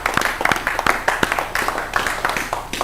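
A small group claps together in an indoor room at a car-detailing demonstration, sharp uneven hand claps spread across the clip, fairly close and moderately loud with no talking over them.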